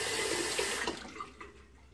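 Tap water running in a shower to warm a razor blade before shaving, a steady close splashing stream that thins and fades toward the end, with no voices.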